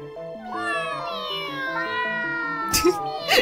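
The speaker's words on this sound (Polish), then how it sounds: "Koty są niepokojąco głośne." Cats in heat yowling loudly in the video game How To Take Off Your Mask: drawn-out, wavering meows over a stepping musical backing, with a couple of sharp noisy bursts near the end.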